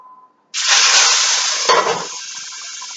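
Swordfish hits a heated pan after a moment of near silence, erupting into a loud, close, hissing sizzle that stays steady and eases slightly toward the end.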